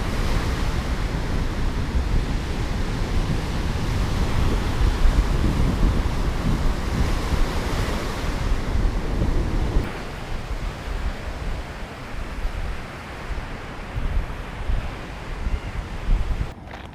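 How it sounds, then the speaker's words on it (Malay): Strong sea waves crash continuously on a beach while gusty wind roars across the microphone, a dense, steady wash of surf and wind with no voices. "Ombak agak kuat petang ni, sebab angin pun kencang."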